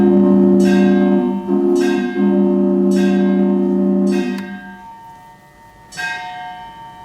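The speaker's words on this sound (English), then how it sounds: "So we have a few train effects on this organ." A theatre organ's built-in train effect plays several struck, bell-like clangs in a slow uneven sequence over a sustained low tone that drops out midway. The sound is loud and close, and nobody speaks.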